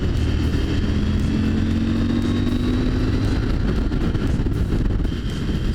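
A CFMOTO 800 MTX motorcycle rides through a series of turns, its mid-pitched engine droning steadily and close throughout, with wind rush over the top and no clear changes in revs.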